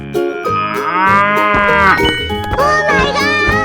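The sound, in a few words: cow mooing in a 3D animal video game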